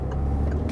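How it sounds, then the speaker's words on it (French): Car engine pulling steadily under acceleration during a driving lesson, a continuous low hum held close and even through a short moment, with no talk. "Et on accélère. Et on met la 2."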